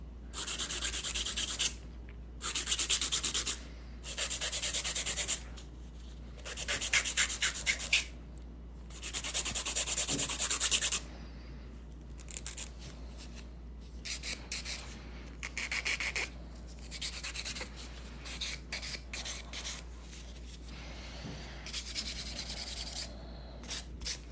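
Hard gel stiletto nails are filed in short, scratchy rasping bursts, close and fairly quiet, with pauses between strokes and lighter, quicker passes later.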